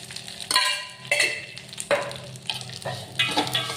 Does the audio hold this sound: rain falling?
no